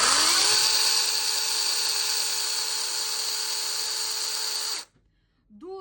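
A Procraft PKA42LI cordless brushless chainsaw on a 20 V 8 Ah battery spins up and runs at a steady high-pitched whine for several seconds, then cuts off abruptly, heard close and loud.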